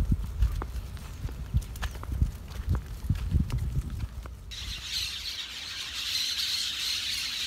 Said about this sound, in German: Da sind hunderte von Papageien drin. Aber man sieht sie nicht. Dafür hört man sie.